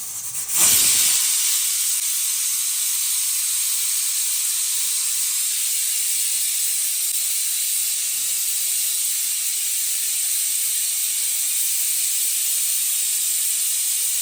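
A pressure cooker holding rice, lentils and vegetables for bisibelebath releases steam in a loud, sustained hiss that bursts on suddenly and holds steady close by, with no talking.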